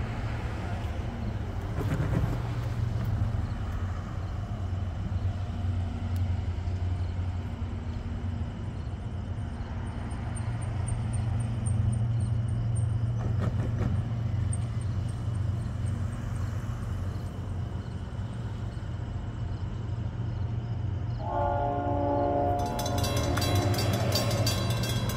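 A Norfolk Southern freight train rumbles past steadily with a low droning hum on the D&H line in New York State, followed near the end by a harsh metallic screech or squeal.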